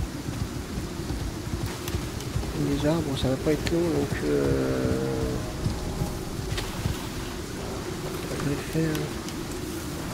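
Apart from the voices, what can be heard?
rainstorm in the video game Icarus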